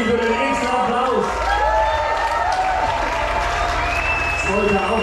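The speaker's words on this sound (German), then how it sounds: "Und Andi, ich würde einen extra Applaus" Crowd applause and cheering with some whoops at a live band concert, a continuous wash of noise with talk over it.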